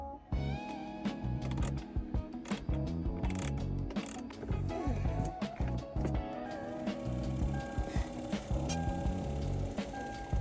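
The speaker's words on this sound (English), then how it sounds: "a right angle screwdriver" A right-angle screwdriver ratchets in repeated close clicking bursts while a blower motor is being replaced on a Toyota 4Runner, with metallic handling noise and no talk.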